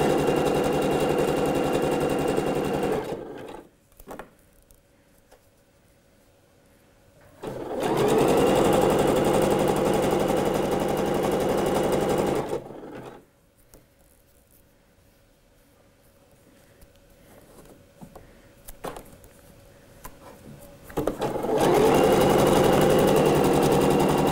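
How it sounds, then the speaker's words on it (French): A sewing machine zigzag-stitches elastic onto a dress, running loud and steady in three long bursts with near-silent pauses between them. "Et là, on part en avant, toujours au point zigzag."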